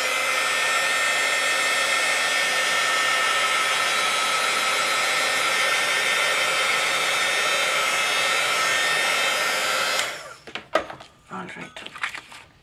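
A hair dryer blows steadily and loudly at close range to dry matte paint on a handmade craft tag, a constant whooshing whir that cuts off after about ten seconds, followed by brief handling noises.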